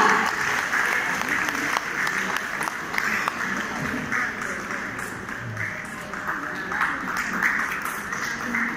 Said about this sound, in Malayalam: സ്പെഷ്യൽ കൈയടി കൊടുക്കണം കേട്ടാ